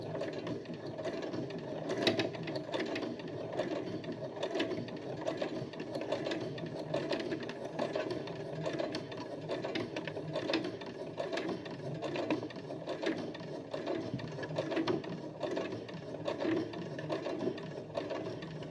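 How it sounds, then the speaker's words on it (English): A sewing machine stitching fabric runs steadily and continuously at a moderate, even level for the whole stretch, with a faint mechanical rattle in its rhythm and no talking. "And then I'm going to start sewing."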